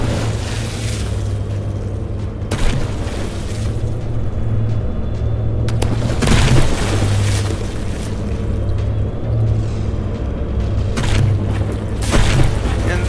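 Cram cannon shells pound a battleship in the From the Depths game, a continuous heavy rumble with a few louder booming impacts over several seconds.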